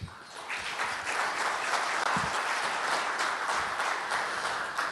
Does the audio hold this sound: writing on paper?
no